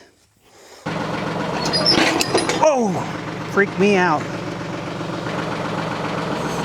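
A backhoe tractor's diesel engine runs steadily at idle with a low, continuous rumble close by. Someone speaks briefly over it, and some squeaky creaks and whines come through in the middle.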